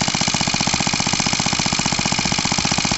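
A stationary engine runs steadily with a fast, even mechanical chuffing beat while driving a Lucas 12 V dynamo by a belt, the engine held at low speed, loud and close with no talking.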